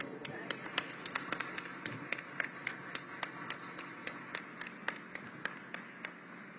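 An audience claps at a ceremony at Notre Dame in Paris: sparse, sharp individual claps in a fairly steady rhythm, close and distinct over a quiet background.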